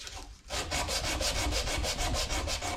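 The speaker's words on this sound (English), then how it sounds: "now my sanding is going to be going this way" Wood sanded by hand with 180-grit paper in steady back-and-forth strokes, a continuous close rasping with an even rhythmic pulse after a brief quiet start.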